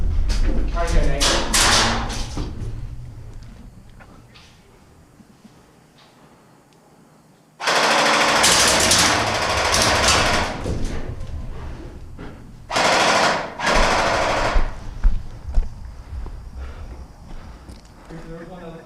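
Airsoft guns fire in rapid bursts at a shack during an outdoor skirmish game, loud bursts coming and going with sharp cracks, while players talk and shout over the shooting.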